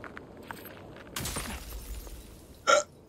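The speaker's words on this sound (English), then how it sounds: "I got the hiccups." A single sharp hiccup bursts out near the end, loud and close, after a stretch of low rumbling game sound and a crash-like noise.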